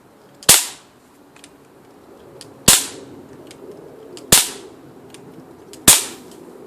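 Four loud, sharp gunshots from a first-person shooter game, evenly spaced about every second and a half, each with a quick decaying tail and no voices over them.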